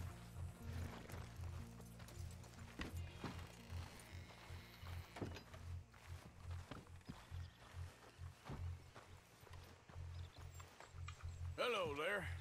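Horses' hooves clip-clop in a steady, repeating rhythm in the Red Dead Redemption 2 video game. The hoofbeats sit under continuous game ambience, with some voices in the background.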